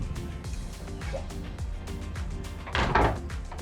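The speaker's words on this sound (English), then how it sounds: "you'll notice this very substantial heavy-duty door. And in a matter of seconds, you can close this" A heavy-duty door on a 2023 Sea Ray Sundancer 370 outboard boat swings shut with a solid thud near the end, following a few lighter knocks and rattles over steady background music.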